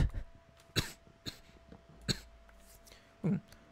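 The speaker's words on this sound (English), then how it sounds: "Cough attack there." Several sharp coughs in a short fit, three or four bursts spaced apart, fairly close, with quiet room noise between them.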